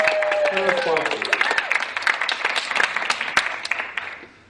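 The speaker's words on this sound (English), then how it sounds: "Let's give a big round of applause for our contestants, our hosts, and our sponsors." A theater audience breaks into lively applause for contestants at the Texas Quiz Show Championship, dense crackling clapping that starts under a voice and carries on loud and close before tapering.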